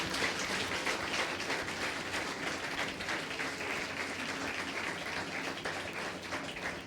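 Sustained applause from a large church congregation during a Sunday sermon fills the whole stretch, steady and dense, with no voices rising above it.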